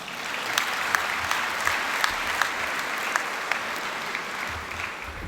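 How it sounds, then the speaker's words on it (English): A large audience breaks into sustained applause during a speech, a thick, even wash of many hands clapping with a few sharper claps standing out, and no talk over it. "Yes, you can applaud"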